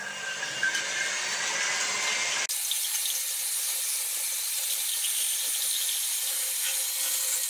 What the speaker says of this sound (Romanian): Pentru început voi bate ouăle.